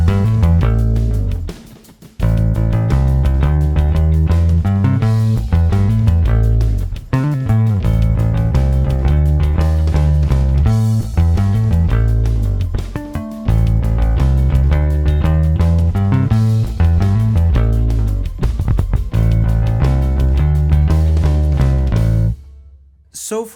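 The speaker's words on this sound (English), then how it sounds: "that's the only sound you're hearing, is the bass plus the pedal" Bass guitar played straight through a Source Audio ZIO bass preamp pedal, a dense, loud stream of plucked notes and riffs lasting about twenty seconds with brief pauses, heard alone and cutting off at the end.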